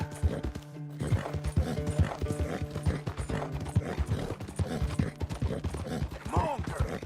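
A horse gallops hard in the video game Red Dead Redemption 2, loud rhythmic hoofbeats pounding continuously with tack rattling and an occasional snort or whinny.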